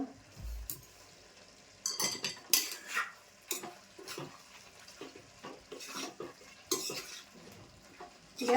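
Drumstick and potato dry curry with fresh coconut and coriander is stirred in a pan, a quiet irregular scraping of a spoon against metal with soft clinks and faint sizzle, close with no talk.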